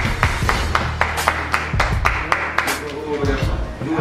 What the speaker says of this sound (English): Clap your hands one time